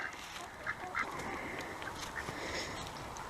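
Ducks out in the open beside a tarp on a warm, sunny day give a few faint, distant quacks scattered over steady outdoor background noise.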